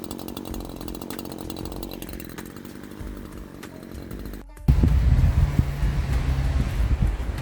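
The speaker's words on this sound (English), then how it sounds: "this chainsaw started to work with the first trial" A chainsaw drones nearby, its pitch dropping, then cuts out briefly before a louder, rougher running resumes with wind buffeting the microphone.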